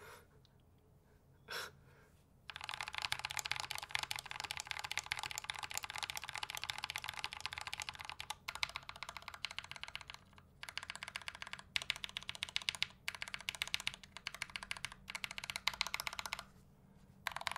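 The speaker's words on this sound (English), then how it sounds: "If someone can make a keyboard where all the switches sound like this" Steady typing on a keyboard fitted with lubed Gateron Yellow Ink switches, a dense run of soft, even keystrokes with a few short pauses, captured fairly quietly after an isolated click or two at the start.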